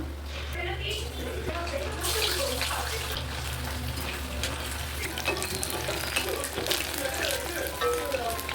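Chicken 65 fries in hot oil in a pan, a steady close-up sizzle and bubbling hiss running the whole time with occasional stirring noises, under a faint low hum.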